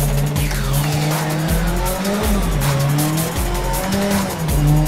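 A Ford RS200 EVO rallycross car in a VR racing game spins out, its tires squealing and skidding in long sweeping wails over a steady, loud engine drone.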